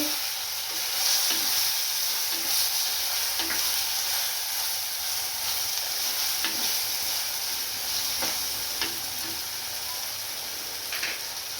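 Onions fry in a pan, giving a continuous close sizzle and hiss, while a utensil stirs them with soft scrapes and light taps at irregular intervals.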